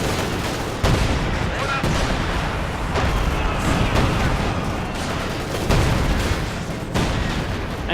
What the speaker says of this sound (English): And field guns continue to deliver as well.